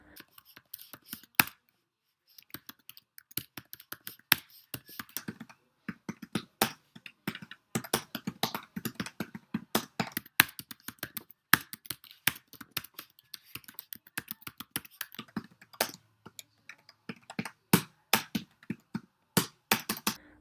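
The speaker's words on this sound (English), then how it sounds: "And now just listen to the typing sounds." Rapid clicking of laptop keys on a 2014 MacBook Air or Lenovo Chromebook, irregular bursts of typing with brief pauses, close and fairly quiet, no talking.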